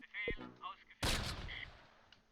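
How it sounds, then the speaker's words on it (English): Gunfire in the wartime strategy game Close Combat: a sharp, loud burst of shots that decays over a second, preceded by a short voice and fainter game sounds. "Somebody's shooting at him still."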